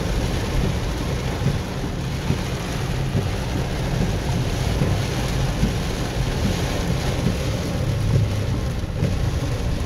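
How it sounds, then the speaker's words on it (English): Strong tropical-storm wind roars in a steady, dense rush with rumbling buffeting on the microphone. It stays loud and unbroken throughout, with no voices. "See, look at the wind now."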